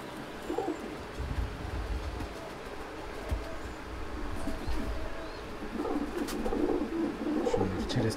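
Pigeons in a loft, including a female, with soft low cooing and bird calls against steady background noise.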